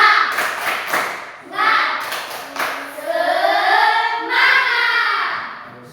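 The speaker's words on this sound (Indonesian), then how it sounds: "kita adakan tepuk semangat dulu" Classroom of children doing a rhythmic spirit clap, bursts of hand claps in patterned groups mixed with chanted voices, loud and close.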